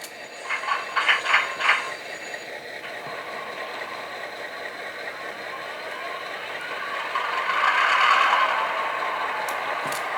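A model GP15 locomotive fires up in a yard, starting with a few quick bursts and then settling into a low mechanical drone that swells near the end.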